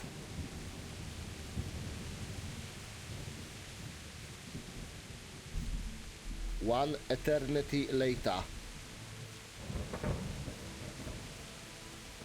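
Steady rain hiss runs throughout, with low rumbles like distant thunder, while a voice speaks briefly in the middle; rain and thunder in the video game Kingdom Come: Deliverance.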